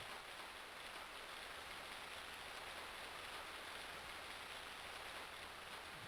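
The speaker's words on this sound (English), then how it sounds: "It sounds like it's raining, so yay, that's less work for me to do." Steady rain in the farming game Harvest Moon: Friends of Mineral Town, a continuous even hiss of falling drops with no pauses, no talk and no other sounds over it.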